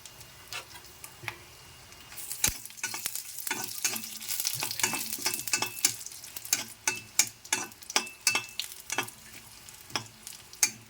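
Crackling pops and sizzles from dry red chillies frying in a pan, with scraping stir sounds, close and busy throughout, no talking.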